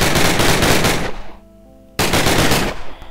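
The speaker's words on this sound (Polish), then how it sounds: "Thompson. Bardzo fajny pistolet, ale troszkę znosi jak się strzela." A Thompson submachine gun in a Minecraft WW2 mod fires a loud, rapid full-auto burst, breaks off into a brief ringing pause, then fires a second burst.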